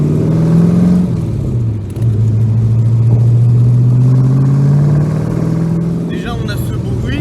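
A Ford AC Cobra's engine while driving, a loud close rumbling drone that rises and settles as the revs shift, with a voice speaking over it.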